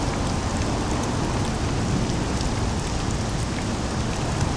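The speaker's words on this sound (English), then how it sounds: "Rain again." Rain falling in a video game, a dense, steady hiss of drops that stays even throughout with no talk.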